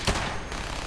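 A single gunshot in Fallout 4, fired at a tree: one brief sharp report at the start, followed by a short ringing decay.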